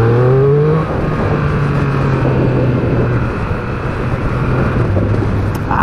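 A 2021 Triumph Speed Triple 1200 RS engine drones steadily throughout while being ridden, loud and close, with a rising engine tone at the start that settles into a constant road roar with wind noise.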